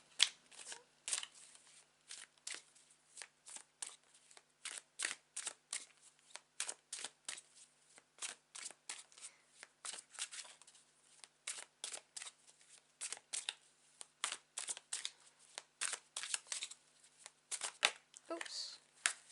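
Tarot cards being shuffled over a steady run of roughly twenty seconds, close and soft, with rapid flicking riffles and brief papery snaps in an irregular rhythm.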